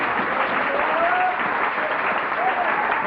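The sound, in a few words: audience applause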